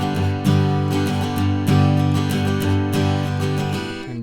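Guitar strums a chord progression from the Great Sea theme of Zelda: Wind Waker, with several rhythmic chord changes ringing fully and clearly, played alone without talk.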